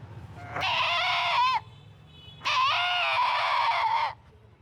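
A human voice imitates a goat, giving two long, wavering bleats separated by a short pause.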